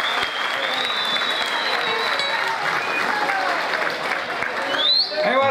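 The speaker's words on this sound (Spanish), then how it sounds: "Fuerte el aplauso." Steady, loud applause from a large crowd, continuous clapping throughout with a few whistles cutting through.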